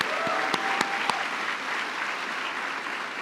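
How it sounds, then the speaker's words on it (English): A banquet crowd at a chamber of commerce annual awards ceremony gives a warm round of applause, dense steady clapping with a few sharp nearby claps standing out early, then easing slightly. "can we give our ladies another amazing round of applause?"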